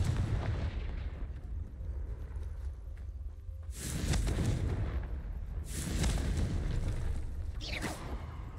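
Confringo spell explosions in the Hogwarts Legacy video game: two or three loud booming blasts with crackling bursts that trail off, following a quieter low rumble, with no talk over them.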